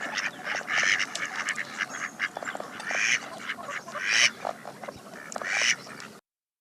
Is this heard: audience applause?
no